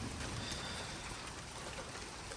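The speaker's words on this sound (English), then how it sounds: "Just big, big drops of rain." Big raindrops fall steadily during a severe thunderstorm, a faint, dense hiss of rain on surfaces with no talking.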